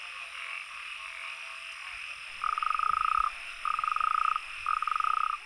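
Natterjack toads calling in the mating season, three long rattling trill bursts of steady pulses, fairly close and loud, rising over a constant hiss of background noise.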